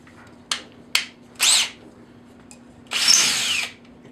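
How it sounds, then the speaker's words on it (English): A power drill whirs close up in short bursts, two quick blips, a longer run, then a sustained stretch drilling straight down into wood. "Okay, you can drill straight down and then back up"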